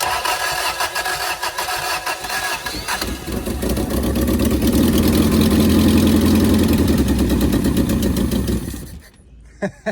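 A 1979 Toyota Corolla Deluxe engine cranks for a few seconds, catches and settles into a loud, rough, steady idle close by, then cuts off near the end.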